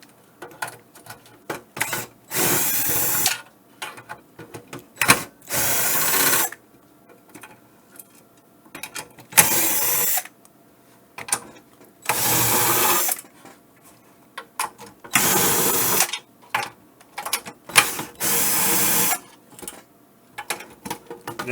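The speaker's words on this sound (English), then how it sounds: "So we have 1, 2, 3, 4, 5, 6 nuts to remove. That's the 1/4 inch." Nuts are being removed with a 1/4 inch wrench, heard as repeated bursts of bright, rapid ratcheting clicks separated by quiet pauses, close up and without talk.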